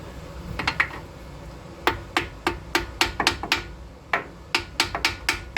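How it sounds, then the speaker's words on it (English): Sharp metallic hammer strikes on a cast iron engine block from a failed 440 engine during teardown ring out in irregular bursts, some in quick doubles and triples, against a low background rumble with no talking. "You gotta love the iron hammer, the cast iron block."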